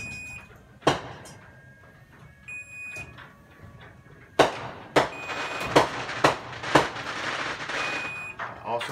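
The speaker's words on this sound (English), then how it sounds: "So you hear the beeping, and you see the door coming up" A garage door opener running on backup battery beeps in short repeated electronic tones under the mechanical rumble of the door opening, while New Year's fireworks pop and bang nearby in a quick irregular burst.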